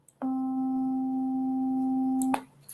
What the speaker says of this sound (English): Here's what the C note in the fourth octave sounds like.